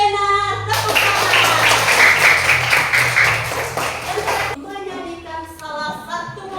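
Students in a classroom applaud together in a dense, steady burst lasting a few seconds, then it stops and a teacher speaks.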